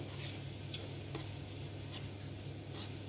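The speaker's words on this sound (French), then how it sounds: "quand vous entendez vos oignons et vos poireaux chanter" Onions and leeks sizzle softly in a pan, a steady low frying hiss with faint stirring scrapes and small pops, heard alone without talk.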